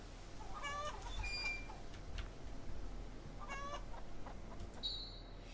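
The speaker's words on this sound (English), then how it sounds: "Hello, little chicken!" Chickens clucking in the video game Hollow Cocoon, several short bursts of clucks and squawks spaced across a quiet background hiss, faint and fairly close.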